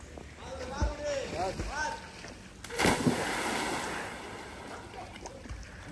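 People shout and talk by deep water, then a loud splash breaks in as someone jumps, followed by churning, splashing water under continued voices.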